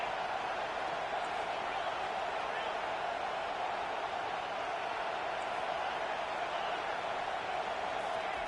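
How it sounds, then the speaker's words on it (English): A packed stadium crowd at a college football game roars in a dense, unbroken wall of noise on third down, with a commentator's voice running over the top. "this crowd is tearing the lid off this place"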